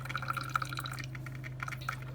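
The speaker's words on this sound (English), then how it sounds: "You can hear it brewing." A Black+Decker CM618 single-serve coffeemaker brews, with soft irregular dripping and trickling over a constant low electrical hum, close and quiet.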